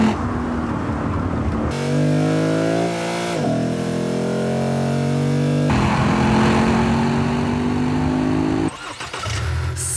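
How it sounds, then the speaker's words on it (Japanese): A Lexus car with a V8 engine revs hard through rising gear-like pitch sweeps, drops back, then climbs again in a strong, close, continuous roar that stays loud for the whole stretch, with no talking. "こちらは V 型8気筒エンジンのレクサス。"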